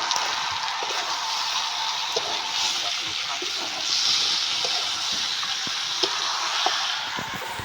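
Tomatoes fry in a hot pan with a steady, close, loud sizzle and hiss, small pops and crackles scattered through, continuing without pause.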